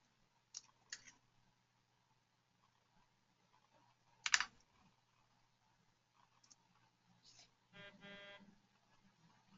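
Sparse, sharp computer clicks used to advance presentation slides, a few isolated taps and a brief rapid burst set against a quiet room hum.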